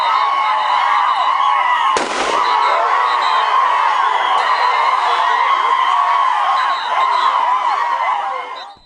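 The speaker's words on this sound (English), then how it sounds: "The response, a distant gunshot from the camp." Single sharp gunshot crack from a camp, cutting through a dense bed of crowd chatter and voices that continues before and after the report.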